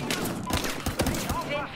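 Rapid gunfire bursts in a Battlefield Hardline police shootout, loud and close, with repeated cracks through the clip under overlapping voices.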